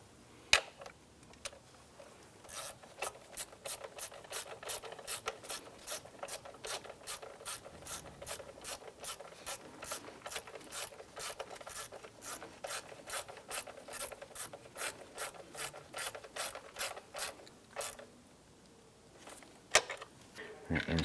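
A hand ratchet snugs down a bolt during a camshaft seal replacement on a 2001-2005 Honda Civic, its pawl clicking in a long, fast, steady run of sharp ticks that starts, pauses briefly, and ends with a couple of louder knocks.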